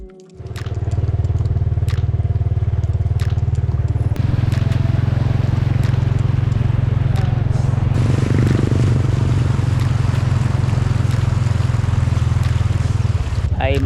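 A motorcycle rides through flood water with a loud, steady, close engine drone, while water churns and splashes around it and a few sharp clicks cut through.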